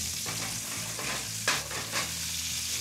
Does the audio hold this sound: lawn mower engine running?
no